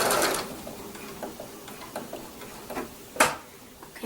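Sewing machine running in reverse while stitching quilt binding with a blanket stitch, a loud mechanical burst at the start, then soft regular ticks and light clicks, with a sharp clack near the end.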